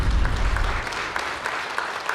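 Audience applause at a Labor Day ceremony, a broad even patter of clapping from a large crowd that starts strongest and holds steady at moderate loudness.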